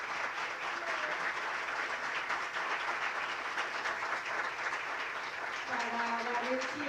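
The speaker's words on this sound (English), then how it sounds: "Let's clap all the projects," Sustained applause from a conference audience at a live climate finance event, a steady dense wash of clapping throughout with a faint tonal sound near the end.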